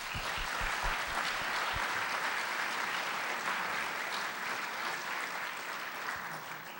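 Sustained audience applause welcoming a panel of speakers at a Conservative Judaism event, steady and dense clapping from a crowd that holds at full strength for nearly seven seconds without any voices.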